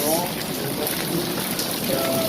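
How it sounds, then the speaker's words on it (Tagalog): Continuous rainfall in Seville, Spain patters evenly throughout, with a faint voice murmuring now and then beneath the downpour. "Maulan na si Bia guys."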